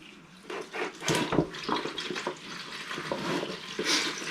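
Engine coolant draining from the front of a motor into a catch container makes a steady splashing, gurgling pour with a few louder surges, close by and with no talking.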